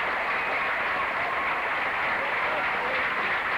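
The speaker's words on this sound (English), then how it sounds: "Logan fans are on their feet, giving the Logan girls a round of applause" Sustained crowd applause fills a gym during a timeout at a 1992 girls' basketball sectional quarterfinal, Logan versus Lancaster at Athens, as Logan fans stand for their team; broad steady clapping noise throughout, fairly distant and even.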